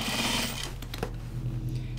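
Home sewing machine stitching through denim jeans, a steady close mechanical whir with a fast rhythmic needle chatter running throughout, loud and continuous with no voices.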